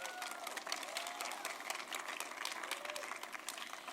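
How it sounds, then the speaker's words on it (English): An audience at a Future Fest 2022 event claps for lecturers, a dense, even wash of distant applause lasting throughout with little variation in level. "Let's give it another round of applause for our fantastic Lynx lecturers"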